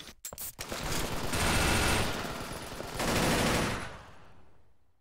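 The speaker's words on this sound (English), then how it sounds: "Getting sniped from behind somewhere." Gunfire in a competitive online shooter clan match comes in two sustained bursts of rapid shots, each lasting about a second, fairly loud with quiet gaps around them.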